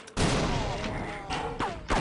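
An SMG fires in They Hunger with a sustained, loud burst of rapid, close shots, broken by brief pauses near the end before the firing resumes.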